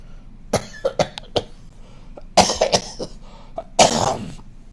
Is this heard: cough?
yes